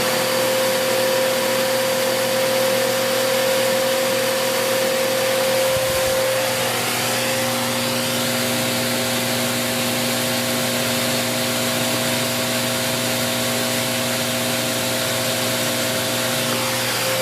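A Bissell Cleanview Plus Pet 76P4-E vacuum cleaner runs continuously, a loud steady motor whine and airflow roar with a constant hum, shifting slightly in tone partway through, no voices.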